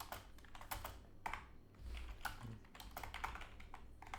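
Quiet, rapid keystrokes on a computer keyboard while game code is typed, with an irregular clatter of soft clicks throughout and no voice.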